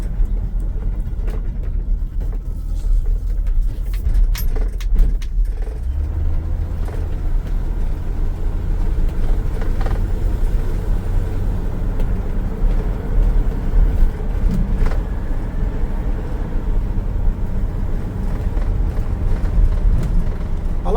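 A 1984 Chevy C10 pickup with a 305 V8 and a 350 turbo transmission warms up while driven slowly, giving a steady, smooth low engine rumble that fills the whole stretch with no talking.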